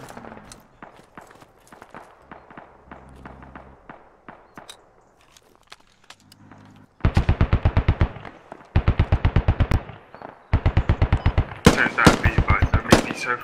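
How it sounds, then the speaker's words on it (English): Heavy vehicle-mounted gun on an MRAP firing in a military shooter game, first as lighter distant bursts, then loud rapid automatic bursts in several long strings, with a faint voice in the background. "There's an MRAP shooting somewhere to the east."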